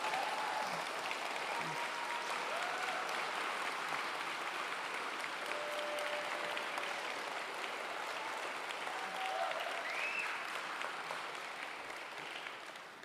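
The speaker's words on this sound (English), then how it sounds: "All you guys are cheering, Mike." A debate audience on whether the New Testament is antisemitic claps and cheers in a long, dense ovation, sustained and fairly loud, fading slightly at the end, with no speech.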